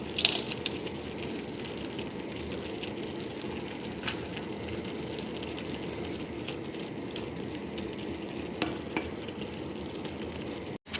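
An egg fries in a pan with vegetables for breakfast, a soft steady sizzle and crackle throughout, punctuated by a few sharp scraping or tapping clicks near and at moderate volume.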